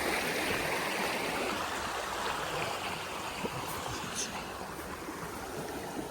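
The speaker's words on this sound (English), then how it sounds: "This water's running pretty sweet." Fast-running stream water rushes steadily along the Appalachian Trail near a spot bridged with boards, a close, even roar that continues throughout without talk.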